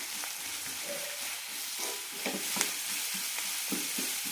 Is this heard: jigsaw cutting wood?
no